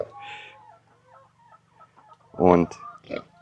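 Farm chickens in Thailand's Isaan region cluck softly and sporadically, then one louder, close cackle breaks out near the end, followed by a shorter call.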